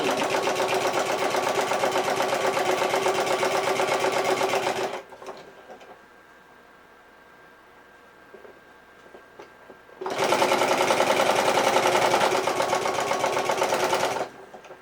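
A sewing machine with a walking foot stitching a thick purse seam hums loudly and steadily up close for a few seconds, pauses in near silence, then runs again at the same fast, even pace before stopping.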